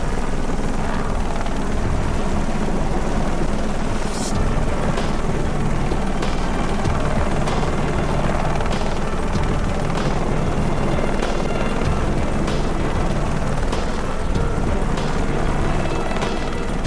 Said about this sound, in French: Puis nous sommes partis en hélicoptère.